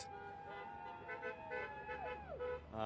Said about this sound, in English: More horn honking as people kind of start to peel off.